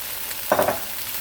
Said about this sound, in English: in that same pan, I'm going to add a little butter. And we're going to add in the peppers